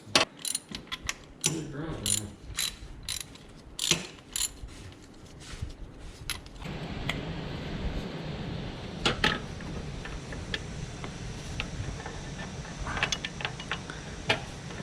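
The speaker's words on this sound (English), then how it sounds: "slip your 19mm ratchet, and I just used an extension there" A 19mm ratchet on an extension clicks in quick bursts while loosening bracket bolts during serpentine belt work on a 2010-2016 Cadillac SRX, its pawl ticking close and crisp with short pauses between strokes.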